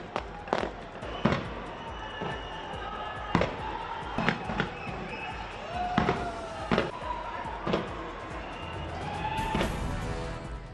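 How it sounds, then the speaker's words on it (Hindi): New Year fireworks bursting outdoors at Auckland's Sky Tower, a series of sharp bangs and booms at irregular intervals over a steady distant crowd-like rumble, some with whistling rises. "शानदार आतिशबाजी से रोशन हुआ स्काई टावर"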